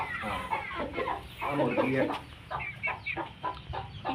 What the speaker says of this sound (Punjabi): ਵਲੈਤੀ ਕੁੱਕੜ ਦੇਖੋ ਜੀ